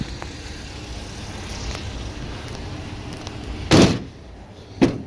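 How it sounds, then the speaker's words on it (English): Doors on a 2019 Mercedes-Benz Sprinter 2500 van being shut: two loud, close slams a second apart against a quiet outdoor background, the first heavier and longer than the second. "shut these doors"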